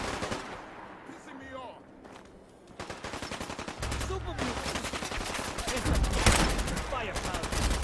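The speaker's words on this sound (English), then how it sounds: "Seems to be a lot of gunfire," Fallout 4 gunfire crackles in dense, rapid bursts, like automatic weapons firing nearby, growing louder and more continuous toward the end.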